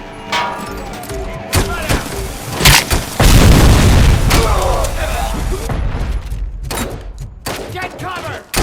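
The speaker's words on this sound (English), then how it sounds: "He's got a grenade launcher?" Grenade launcher explosions boom in a Robocop video game, a series of heavy blasts and bursts of gunfire, with one long rumbling explosion in the middle and scattered sharp hits before and after.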